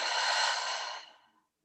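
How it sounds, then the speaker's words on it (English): A single long, full exhale during a breathing meditation, close and breathy, fading out smoothly over about a second and a half with no talk. "And exhale fully."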